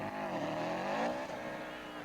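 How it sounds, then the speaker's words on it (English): A Subaru rally car in a 1991 rally struggles for traction as its engine revs hard and steadily, a loud, continuous strained drone with wavering pitch and no clear breaks. "The Subaru is emerging, but still can't get traction."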